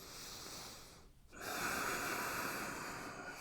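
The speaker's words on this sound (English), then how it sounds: "We'll stay here for 10 slow breaths." Steady breath held through a yoga pose in an intense athletic power flow class, a soft airy exhale, a brief quiet pause, then a long sustained nasal breath, close and calm with no talking.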